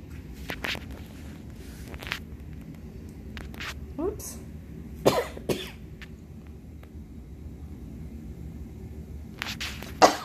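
A few scattered coughs and throat clearings break through quiet room noise, mixed with light shuffling and soft knocks, close by.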